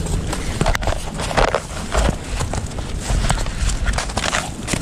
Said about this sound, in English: I got surrounded by horses.